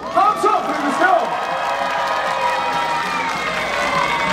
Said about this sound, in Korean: 다시 한번 뜨거운 박수! 박수! 보내주세요!